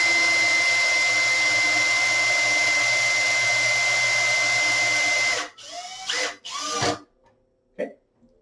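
A power screwdriver drives long screws into a metal bracket base while mounting an arcade machine main board, with a loud steady whine for five seconds, then stopping with a few short bursts and clunks.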